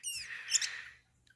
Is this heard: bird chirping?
yes